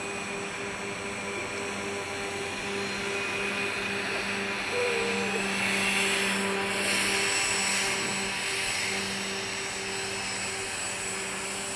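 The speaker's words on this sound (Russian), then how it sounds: "Как видите, она едет по снежному покрову, который очень глубокий, и вообще не оставляет никаких следов абсолютно." A hovercraft crosses deep snow, its engine and impeller fans giving a steady loud droning roar with a tonal whine that swells slightly midway and stays constant, no voices.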